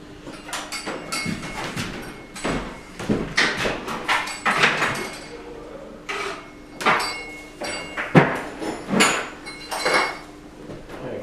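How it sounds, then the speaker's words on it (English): Metal clinks, taps and scrapes of tools working nuts off the manifold of a Series II Jaguar E-Type engine during a rebuild, irregular close knocks and rattles over a quiet workshop background. "we'll remove the last nut off the manifolds"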